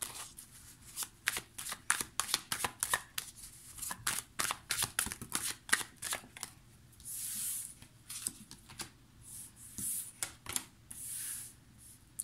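Playing cards shuffled for a tarot-style card reading, a rapid series of crisp riffling flutters and snaps repeating through the stretch, close and clear with no talking.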